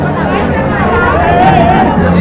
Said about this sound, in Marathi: ते भूत लटकल्यावर मित्रांनो सीन बघायला अजून एवढी गर्दी आहे